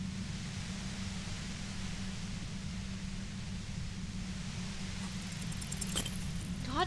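Steady white noise hiss in the Disco Elysium video game fills the whole stretch evenly, a dense static wash with a low rumble beneath and a slight swell near the end.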